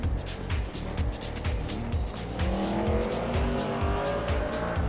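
Race cars lapping the Spa track in a racing video game, a droning engine with rhythmic gear and rev pulses and tire squeal, while a commentator talks over it.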